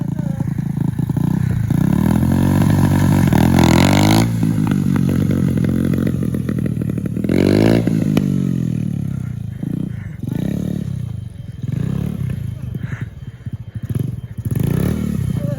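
A 90cc pit bike engine revs hard and roars steadily through a wheelie, rising and falling in loud surges over a continuous drone, with brief voices in the background.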